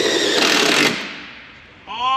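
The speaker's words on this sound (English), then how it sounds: "Oh, I just broke the drill bit." A power drill grinds loudly for about a second while drilling through panelling during a DIY caravan repair, then fades as the bit breaks, followed by a short squealing, whining burst.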